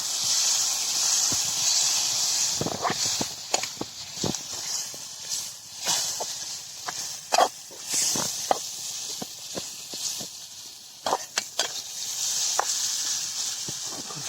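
Clams (kakka) frying in a pan, stirred by hand: a steady sizzling hiss runs throughout, broken by sharp scraping and clattering strokes of the stirring, clustered in bursts with short pauses between.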